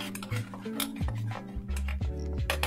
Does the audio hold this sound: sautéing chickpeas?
yes